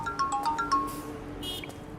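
A phone ringtone plays a quick run of bright electronic melody notes, then fades into a faint high buzz, heard alone at moderate volume.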